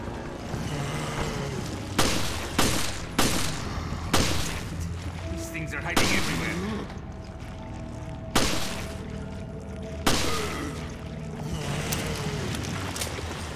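Gunfire in the survival horror game Resident Evil: Revelations, with several loud, sharp shots at irregular intervals over game ambience, alongside background music and a voice talking.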